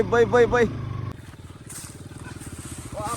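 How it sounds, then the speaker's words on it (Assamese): A brief burst of talk, then a motorcycle engine putters steadily up close while riding toward open farm fields. "পথাৰৰ ফালে বাইক চলাই গৈছো"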